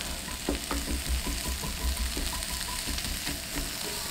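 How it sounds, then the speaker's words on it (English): Cucumbers sizzle in a hot pan while being stir fried, a steady crackling hiss with occasional scraping stir sounds, close and fairly quiet, with no voices. "we're stir frying cucumbers"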